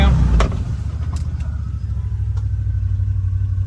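A Can-Am off-road vehicle drives through water, its engine a loud, steady rumble with a heavy splash or surge at the start, followed by a continuous churning drone.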